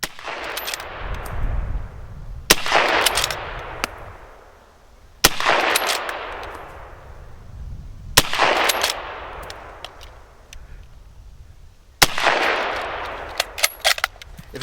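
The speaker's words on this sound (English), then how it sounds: "The transition to magazine fire went along just fine, and was very similar to that of Practice 1." Shots from a Mk I Lee-Metford bolt-action rifle in magazine fire, five sharp loud reports spaced about two to three seconds apart, each with a long rolling echo decaying across an open range.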